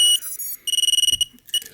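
Flight controller on a drone setup beeping in quick, loud electronic tones: a longer tone first, then a rapid run of about a dozen short beeps, and a final beep after a brief pause.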